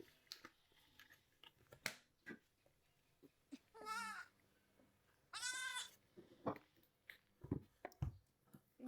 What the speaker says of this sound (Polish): Kozy gdzieś tam słyszę.